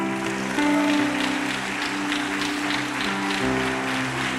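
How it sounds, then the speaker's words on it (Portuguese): A church congregation at a Sunday service claps steadily and loudly throughout, with sustained musical tones playing underneath. "Dá um aplauso para o Senhor."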